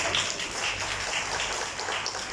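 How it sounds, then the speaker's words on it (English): Audience applause rings out at an anniversary event, a dense, fairly faint wash of many hands clapping that stays steady throughout. "applaudissements pour vous-même"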